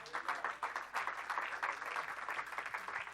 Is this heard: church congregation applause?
yes